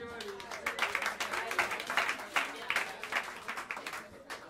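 Audience at Smalls Jazz Club in New York City applauding a live jazz band, dense broadband clapping with scattered cheers, loud and close, with voices talking and calling out over it.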